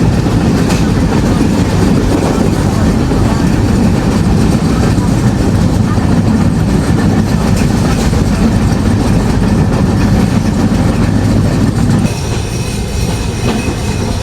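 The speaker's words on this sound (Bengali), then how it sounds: "আমরা নির্ধারিত সময় প্রবেশ করছি বিরামপুর রেলওয়ে স্টেশনে" Aboard the Rupsha Express entering Birampur railway station, a loud, dense rumble of wheels and carriages with clacking rolls on continuously, easing slightly in the final seconds.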